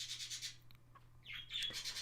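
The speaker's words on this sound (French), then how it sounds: "Do you hear my birds? The birds are singing." Pet birds chirp and sing indoors, faint high twittering phrases that come and go with a scratchy rustle, behind a steady low hum and with no talk.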